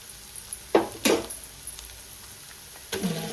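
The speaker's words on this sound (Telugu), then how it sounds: "మనం కడిగి పెట్టుకున్న చికెన్ని దీనిలోకి వేసేద్దాం" Washed country chicken dropped into a hot pot for a festive curry hisses in three sharp sizzling bursts, each fading quickly, with no voices.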